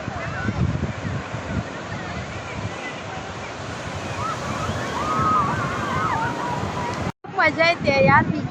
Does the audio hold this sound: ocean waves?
yes